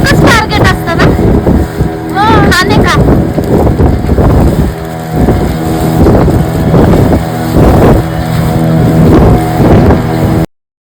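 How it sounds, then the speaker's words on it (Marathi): Wind and sea waves rush past a moving boat off Malvan, a steady broadband roar under frequent nearby talk, with a few brief whistle-like tones early on. "फक्त लाटांचा आवाज आणि हवेचा आवाज"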